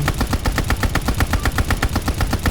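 Rapid, continuous gunfire in Call of Duty: Vanguard, a steady rattling burst of automatic shots at an even rhythm, loud and without pauses.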